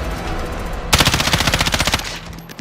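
A rapid burst of automatic gunfire from a video game rattles out for about a second, loud and close, the evenly spaced shots over a steady game background.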